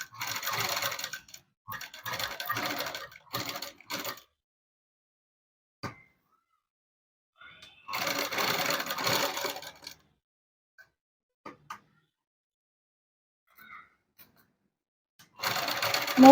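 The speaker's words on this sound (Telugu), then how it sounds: "దీని ప్రకారం అనేది కుట్టు వేసేసుకోవాలి. కుట్టు అనేది చాలా చిన్న కుట్టు పెట్టుకోవాలండి." A sewing machine stitches a blouse in short tiny stitches, running in several loud bursts of a few seconds each, with quiet pauses between runs.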